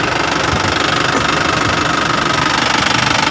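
An Isuzu Elf NKR truck engine runs steadily up close, a loud, continuous diesel rumble with a knocking, throbbing idle texture and no pauses.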